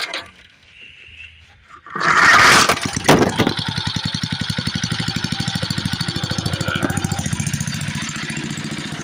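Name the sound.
old Briggs and Stratton tiller engine sputtering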